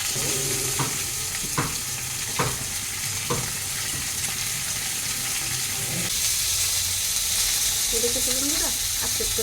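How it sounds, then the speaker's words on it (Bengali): Fish frying in oil in a hot wok (kadai) for a sour fish curry, with a steady close sizzle running throughout, broken by a few sharp clacks of a spatula stirring the pieces. "মাছগুলো একটু ভেজে নেব"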